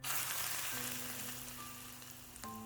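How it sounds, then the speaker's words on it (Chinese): Hot oil poured over chili flakes and white sesame seeds in a bowl of chopped radish, giving a steady close sizzle and crackle throughout, with a few faint utensil clinks near the end. "再浇上热油，激发出所有食材的香味"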